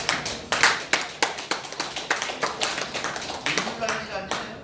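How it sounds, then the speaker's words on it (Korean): A congregation at a Daejonggyo religious gathering claps briefly, a group round of fairly quiet, steady hand claps with loose rhythm that come in uneven bursts, with voices mixed in. "박수 한번 쳐봐"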